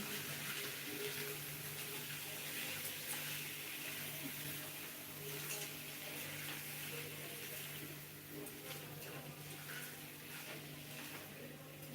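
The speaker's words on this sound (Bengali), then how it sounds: "সুন্দর করে এবার বাকি মিষ্টি জল দিয়ে দিলাম" Sweetened water poured into an amla pickle, a steady faint watery rush running continuously with a low hum underneath.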